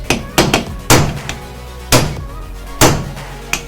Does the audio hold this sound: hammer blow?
yes